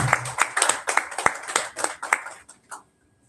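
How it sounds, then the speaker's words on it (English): A small audience clapping to welcome a speaker at a tech conference session, sparse distinct hand claps in an uneven rhythm that fade out after about three seconds. "can we clap for Juliet Niang?"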